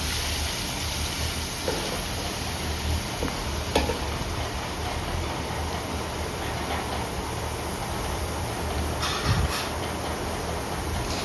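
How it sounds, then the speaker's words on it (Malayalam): Shallots sauté in a pan over a wood-fired stove for Kerala-style beef curry, giving a steady, close sizzle with a few faint stirring knocks and no talking. "ഇനി അതും ഈ പച്ചക്കുത്തൊന്ന് മാറുന്നിടം വരെ നന്നായിട്ട് വഴറ്റിയെടുക്കണേ"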